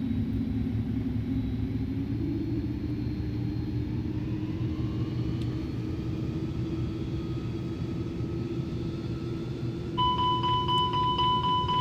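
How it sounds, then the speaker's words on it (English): Airbus A310 engines spooling up with the brakes held in Microsoft Flight Simulator 2020, a steady low rumble with a rising whine that climbs gradually, then a tonal beeping alert joins near the end. "Standing on the brakes, running up the motors."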